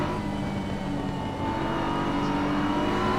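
BMW and Audi race cars lapping Suzuka in a racing video game, a steady, loud engine drone with continuous whirring that holds evenly throughout, with no talk.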